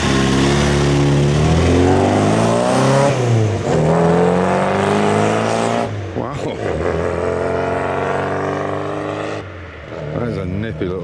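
Morris 1000 Traveller classic car with its engine running loudly and revving up and down in close sweeps, then settling lower, with a voice talking over it.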